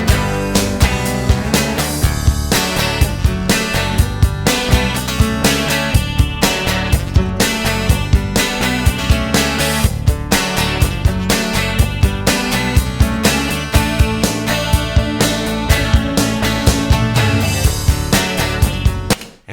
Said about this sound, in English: we've got a chorus now on the electric, which makes it even more washy, like it's underwater